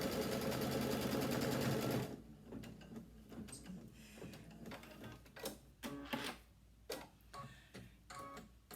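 A sewing machine stitches folded fabric on a heirloom quilt in a steady burst for about two seconds, then stops, followed by scattered quiet clicks and handling noises.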